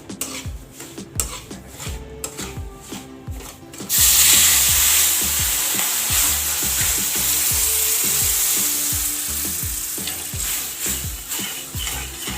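Milk poured into semolina that has been roasted brown in ghee for Gujarati rava shiro bursts into a loud, steady sizzle, with spoon scraping and stirring against the pan before and after the milk goes in.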